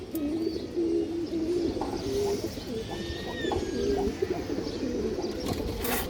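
Large pigeons, a breeding pair among others, coo continuously in low, throaty, rolling calls, several birds overlapping nearby, with faint chirps and rustling in the background.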